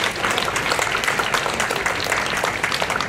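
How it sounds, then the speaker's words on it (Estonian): A dense, steady patter of clapping from an outdoor crowd at the Tartu town day morning coffee gathering, holding at an even level for a few seconds with no voices standing out. "teeme veel ühe suure aplausi"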